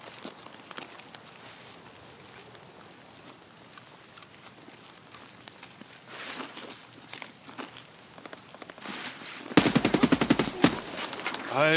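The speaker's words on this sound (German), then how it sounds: "Ja, vor uns sind Schüsse." Gunfire in Escape From Tarkov, at first faint and distant behind footsteps and game ambience, then a loud close burst of rapid automatic shots near the end.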